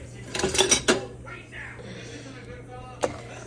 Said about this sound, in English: we want to stir this up until it's completely dissolved